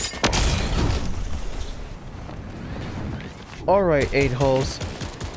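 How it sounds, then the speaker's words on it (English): Gunfire and blasts ring out in the video game Fortnite, loud sharp bursts packed close together at first, then fading into a rumbling background while someone speaks over them. "We have to shoot those enemies right now."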